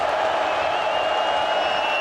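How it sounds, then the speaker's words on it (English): A college football stadium crowd at a TCU vs SMU game roars in a dense, sustained wash of cheering on third down, loud and unbroken throughout. "3rd down, and the crowd comes to life."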